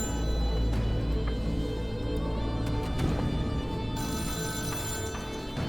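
A telephone bell rings steadily throughout in the Deep Sleep: Labyrinth of the Forsaken video game, mixed into a dense, loud droning ambient soundscape with no talk.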